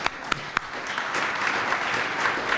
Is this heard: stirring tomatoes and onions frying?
no